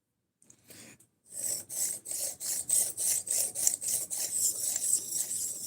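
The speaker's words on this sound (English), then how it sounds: "Somebody told me that sharpening like this works good." A full flat grind knife blade is rubbed across a sharpening stone in figure-eight strokes, making a steady rhythmic rasp of about a dozen close, evenly paced scrapes after a brief opening stroke.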